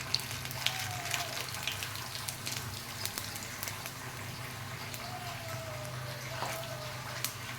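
Dry red chillies and white cumin seeds fry in a little oil as a tempering for dal, giving a faint, steady sizzle with soft crackle throughout, heard alone with no talk.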